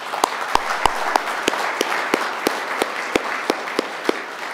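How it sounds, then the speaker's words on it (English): An audience at a Washington, D.C. forum on Korean unification applauds visiting guests, a broad wash of clapping with a few sharper, louder claps standing out at a fairly steady pace, moderately near. "Please give them a round of applause."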